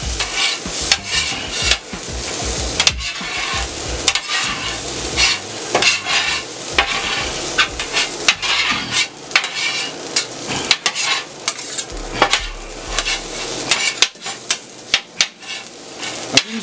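Rice with soy sauce being stirred and fried in a pan for house special fried rice, with steady sizzling under frequent scraping and clanking of a utensil against the metal, loud and close throughout.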